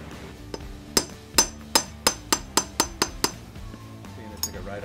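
A hammer strikes a manual impact driver to break loose a stuck screw on a Koken barber chair: roughly nine sharp metallic blows in quick, steady succession, ringing and close, then a brief pause and one last lighter tap.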